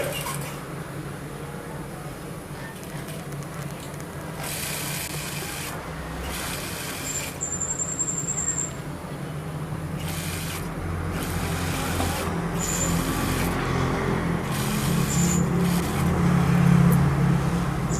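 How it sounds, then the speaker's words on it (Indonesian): A sewing machine stitching the side seam of women's long work-uniform trousers, a steady close mechanical whir running throughout with repeated bursts of faster stitching and slight rises in intensity. "Mulai dari lutut kita jahit 2 kali ya, biar kuat."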